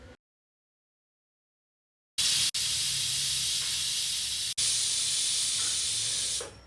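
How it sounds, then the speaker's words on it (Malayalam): A pressure cooker cooking chicken kurma gives off a loud, steady hiss of escaping steam after a short silence, running for about four seconds with one brief break partway through. "കുക്കർ ക്ലോസ് ചെയ്ത് 2 വിസിൽ വരുന്ന വരെ വെയിറ്റ് ചെയ്യാം"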